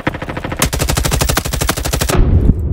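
Rapid automatic gunfire from an M4 rifle in the Roblox shooter Frontlines, a steady stream of close, loud shots for about a second and a half, then a brief tail of impact and ambient noise.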